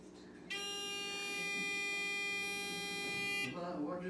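Automatic pill dispenser sounding its alarm, a loud, steady electronic buzzing tone that holds for about three seconds and then cuts off, with a voice faintly underneath.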